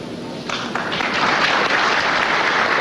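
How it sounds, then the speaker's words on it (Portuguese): A plenary chamber breaks into applause for Vice-President Itamar Franco. A few separate claps build quickly into dense, sustained clapping that stays loud to the end. "E também foi muito aplaudido pelo plenário."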